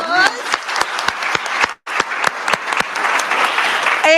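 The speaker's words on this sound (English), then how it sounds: "So another round of applause." Loud audience applause at a live business idea competition finals: dense, continuous clapping with crisp individual claps, briefly cut off for a moment before resuming, with some voices underneath.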